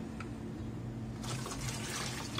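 Liquid poured into a kitchen sieve while making hamburger patties, a soft splashing, trickling wash that starts about halfway through and runs steadily over a low background hum, close by with no voices.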